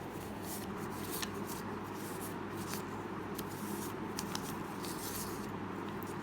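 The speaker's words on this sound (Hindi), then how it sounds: "ओके, शफल करते हैं।" A deck of cards being shuffled during a tarot-style reading, a soft continuous riffling and shuffling texture at low volume, close by, with no talking over it.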